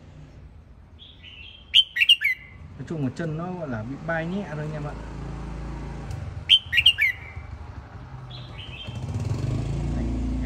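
Red-whiskered bulbul giving sharp, bright chirping song phrases in two close bursts, with someone talking over and between the calls and faint mechanical background noise.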